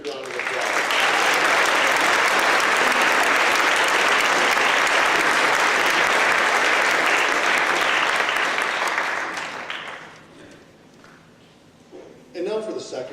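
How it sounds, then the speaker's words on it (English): A large audience gives a sustained, loud round of applause for seniors at a high school academic awards ceremony, dense clapping for about nine seconds before fading out, followed by quieter room noise and a brief voice. "Please give our seniors a great big round of applause."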